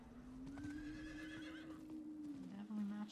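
A horse in the game Diablo IV gives one long, high whinny lasting about two seconds, with soft hoof clops underneath and a brief snort at the end.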